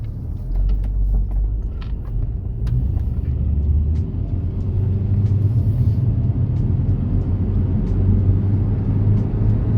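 A Honda Odyssey RB2 Absolute minivan engine rumbles low and steady as it pulls out of a parking space and keeps driving, with faint road noise and small clicks on top.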